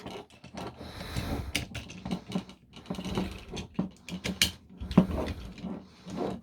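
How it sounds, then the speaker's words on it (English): A large Transformers Studio Series Scavenger toy figure being transformed, its treads pushed up: close, irregular plastic clicks, ratcheting snaps and handling rattles in quick bursts, with no talk. "Push up the treads."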